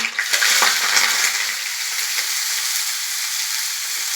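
Chopped onion, two green chilies and curry leaves fry in hot oil for poha, a loud crackling sizzle at first that settles into a steady hiss, close up and with no voices.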